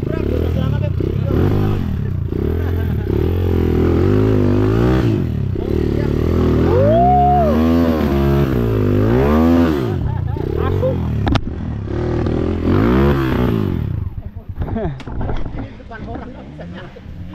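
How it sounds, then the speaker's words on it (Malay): A dirt bike, a KTM 300 or KLX140, rides a pine forest trail, its engine loud and close with repeated rising and falling revs and sputters. Riders talk and shout over it. "Motor jelek banget nih."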